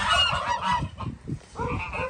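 Domestic turkey or goose honking and gobbling in a rural Turkish farmyard, a loud, dense, continuous run of calls lasting about two seconds, close by and with no speech over it.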